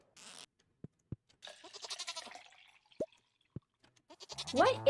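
A cartoonish goat in the farming game Stardew Valley gives a short, wavering bleat near the end, after several sparse popping clicks and some soft background chatter.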